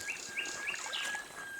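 Birds chirp in a forest behind a rocky beach, a few quick high tweets repeating at a steady pace against faint background hiss, fairly soft and close, no talk.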